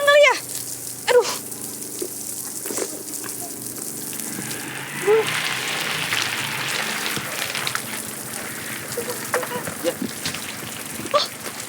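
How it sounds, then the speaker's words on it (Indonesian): Steady rain pours down outside in an Indonesian street scene, a continuous dense hiss lasting the whole stretch, with a few sharper knocks and voice-like sounds layered over it. "hujan lagi"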